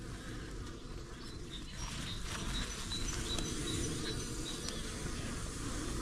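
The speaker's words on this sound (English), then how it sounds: "Fortunately, you're going to have some bees flying" Honeybees flying around an opened beehive in winter make a steady, dense buzzing hum that fills the whole stretch without a break.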